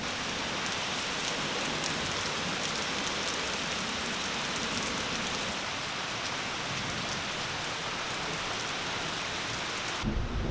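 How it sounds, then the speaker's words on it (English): Heavy thunderstorm rain pours in a steady, dense roar for the full length, a constant wash of downpour with no breaks and no voices, ending with a sudden change at the very end. "So what do you think about the big bad storm?"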